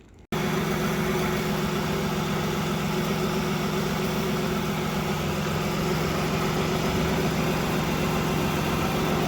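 A car with a 3800 Series 2 engine idles warm in park, a steady low drone with a constant hum, close and unchanging after a brief quiet start.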